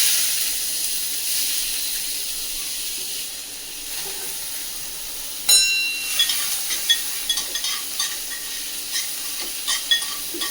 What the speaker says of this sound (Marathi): चांगलं खरपूस तेलावर पहिला भाजून घेते.